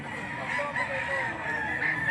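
Chickens at a poultry market in Lipa City, Batangas, cluck and crow steadily in a dense, busy layer close by, with no talk over them.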